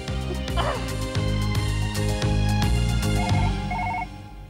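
A telephone rings repeatedly with a patterned electronic tone over a layered musical background, the rings continuing without being picked up.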